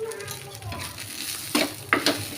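Cumin seeds fry in hot oil in a pan, making a steady close sizzle with two quick scrapes of stirring near the end.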